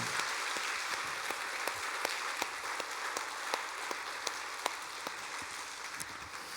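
A church congregation claps together during a Sunday worship service, a fairly distant, even wash of applause with scattered sharper individual claps standing out across the whole stretch.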